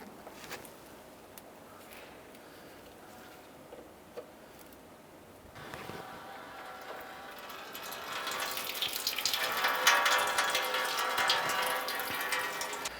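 Coolant drains from the radiator drain plug of a 2004-2009 Dodge Durango into a catch can. A faint trickle grows partway through into a louder, steady rushing pour.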